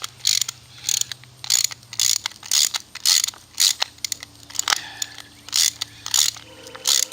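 A ratchet cranking a 1-inch bolt with a fender washer into a module end piece, loud close clicking bursts repeating in a regular back-and-forth rhythm, with a low hum underneath and no talking.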